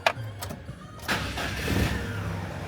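A GAZelle Next van engine just after a clutch replacement cranks with a few quick clicks and turns over, then catches and settles into a steady mid-pitched idle, moderately loud and close with no speech.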